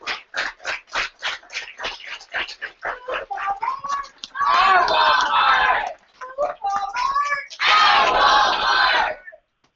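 A crowd at the OUR Walmart campaign relaunch, a workers' organizing rally, chants in a rhythmic pulse, then erupts into two loud bursts of cheering and applause separated by a brief lull before falling silent.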